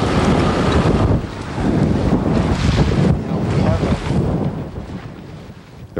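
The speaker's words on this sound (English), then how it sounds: "The rough ride in the Zodiac back to the ship was only a hint of what we were in store for tomorrow." A Zodiac inflatable boat bounces through a rough, windy ride in Antarctic waters. Loud, constant wind buffeting and rushing water roar across the whole stretch, with heavy gusts swelling and easing.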